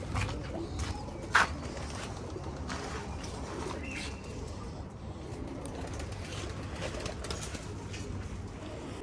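Racing pigeons in a loft, soft cooing and fluttering mixed into a dense, constant bed of bird noise, with a brief louder flap or call near the start.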